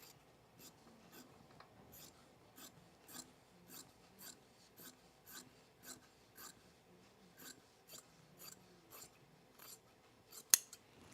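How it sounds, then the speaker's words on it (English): Scissors snip through fabric during sewing of a pullover dress, a steady run of about twenty crisp, close cuts at a regular rhythm, faint and without talk, ending with one sharp click. "These scissors aren't it either."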